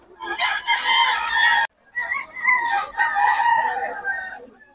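An 11-month-old bullstag rooster at a market in Bocaue crows loudly and close by, one long crow followed after a brief pause by another drawn-out crow.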